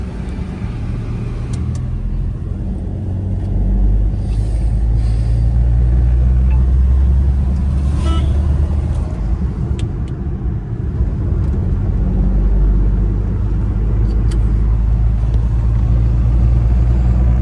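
A car engine runs with a deep, steady rumble close by, occasionally swelling slightly as it revs, with no one speaking.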